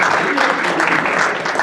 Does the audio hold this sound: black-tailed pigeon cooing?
no